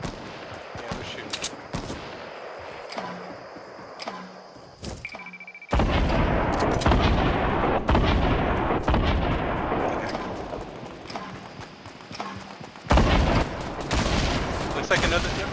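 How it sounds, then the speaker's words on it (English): Gunfire in the Fortnite Battle Royale video game: repeated loud shots and bursts of automatic fire, with booming impacts and a sudden louder stretch midway, nearby and continuous over about fifteen seconds. "Yeah, we're shooting."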